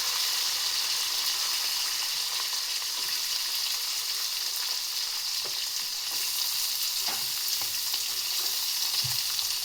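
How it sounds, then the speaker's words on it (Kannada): Onion with mustard seeds, curry leaves and green chillies frying in hot oil for okra palya, a dense continuous sizzle with occasional spoon knocks and stirring scrapes, close and unbroken by speech. "ಈರುಳ್ಳಿ ಚೆನ್ನಾಗಿ ಒಂದ್ಸಲ ಫ್ರೈ ಆಗೋವರೆಗೂ ಮಿಕ್ಸ್ ಮಾಡ್ಕೊಳ್ಳಿ."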